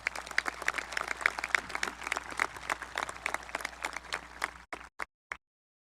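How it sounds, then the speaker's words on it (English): A high school graduation audience applauds teachers and staff with sustained clapping from many hands, dense and steady, then trailing off into a few last claps before silence. "Can we give all those people a round of applause"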